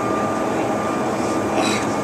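Steady engine drone inside a private jet cabin in flight, a loud, even broadband roar with faint voices in the background.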